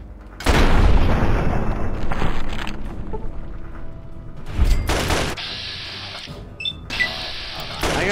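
A frag grenade goes off in Fallout 76, a loud broadband boom at the start followed by a second blast later, with game noise and rumble between.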